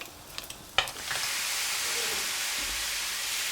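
Lamb mince frying in a pan, a few utensil knocks and then a strong, steady sizzle that swells and holds close and loud as it is stirred.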